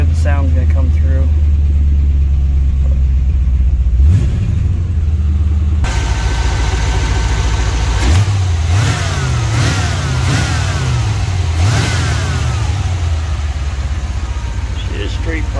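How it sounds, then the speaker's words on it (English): A 1993 Corvette's 350 small block Chevy V8 with straight-pipe exhaust idles loudly up close, then gets blipped in several quick revs that rise and fall over a deep rumble. "She is straight pipe. A little louder, but factory that besides that."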